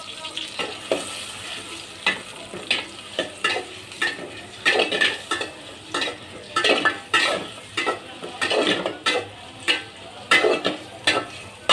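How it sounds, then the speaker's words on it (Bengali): Onions and green chillies sizzle steadily in hot oil in a pot while a spatula scrapes and stirs in a repeating rhythm, with no voices. "হাঁড়িতে তেল দিয়ে দিছি আর তেলটা গরম হয়ে গেছে আর তার মধ্যে আমি দিয়ে দিলাম পেঁয়াজ আর কাঁচামরিচ"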